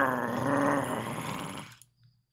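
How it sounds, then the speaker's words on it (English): A ferocious beast in the game Stranded lets out a loud, close, rumbling growl that holds for under two seconds before cutting off into silence. "A loud growl, likely from a ferocious beast, roared close to you."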